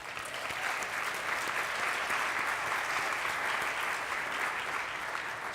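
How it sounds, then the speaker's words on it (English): Steady, dense applause from a conference audience, continuous and fairly loud throughout without pause, with no talking over it. "I think that deserves a round of applause"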